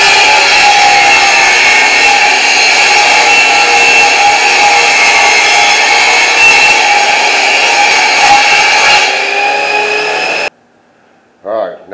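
A power saw cuts wooden shelf pieces for a DIY entertainment center, a loud steady motor whine for about ten seconds before it stops abruptly, followed by a brief faint knock.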